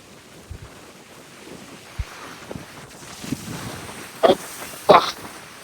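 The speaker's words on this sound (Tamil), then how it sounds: "எவ்வளவு வேகமாக இன்றைய தினம் அலை அடிக்குதுண்டு அவங்களை காட்டுறோம் பாருங்க" Storm-driven sea waves crash against the shore in Jaffna amid steady wind rush, with two louder surging splashes close together near the end.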